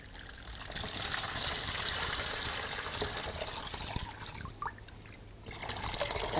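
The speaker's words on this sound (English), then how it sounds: "So if you could put a cup of cold water in there." Cold water poured into a bucket for a hydrotherapy foot treatment, a steady trickling and splashing stream that runs continuously at close range, with no talking.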